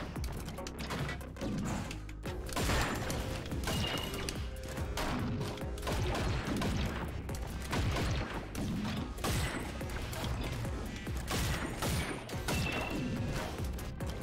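Weapon fire in the video game Orbital Bullet: rapid bursts of shots and crashing impacts in dense, irregular volleys, loud and continuous for the whole stretch.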